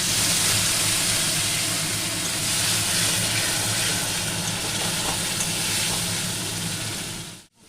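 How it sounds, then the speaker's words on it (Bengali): Spice paste of cumin, ginger, garlic, onion, tomato and red chilli powder frying in a pan, a loud continuous hiss of sizzling that holds steady for several seconds before cutting off abruptly. "আমি এবার মশলাটা ভালো করে কষিয়ে নেব"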